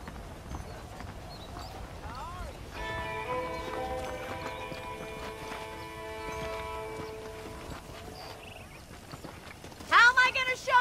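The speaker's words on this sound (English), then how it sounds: "The horses are saddled up over here." Horse hooves clop along steadily in Red Dead Redemption against quiet ambience, with a horse's whinny near the start and another louder whinny at the end.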